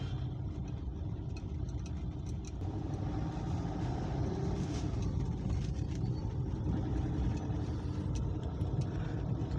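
Cars queued at a toll plaza on a foggy winter day, a dense continuous rumble of idling and slowly moving engines close by, steady and loud with no voices.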